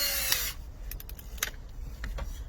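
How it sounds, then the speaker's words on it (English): A power drill bores out a broken valve cover bolt on a Toyota Tarago/Previa/Estima TCR10 engine, a loud steady whir for the first half second followed by fainter intermittent bursts and scraping taps. "is I'm gonna drill it."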